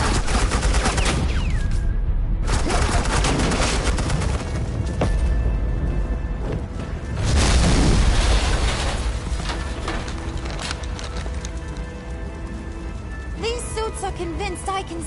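Agent Quinn lays down suppressing fire in Batman: The Enemy Within episode 5, a loud, dense burst of rapid gunshots and booms that surges and fades over a continuous rumble, with dialogue woven through.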